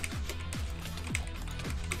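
A computer keyboard with a sticky W key being typed on: a handful of close, sharp key clicks at an uneven pace, each with a short dull thud, and no voices.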